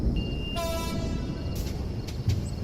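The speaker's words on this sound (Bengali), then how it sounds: "হঠাৎ করেই দূর থেকে ভেসে এলো ট্রেনের হুইসেল" A train horn sounds once, drawn out and steady, carrying over a quiet background with faint clicks afterward.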